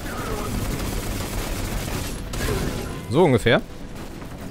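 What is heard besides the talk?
gunfire in the video game Destiny 2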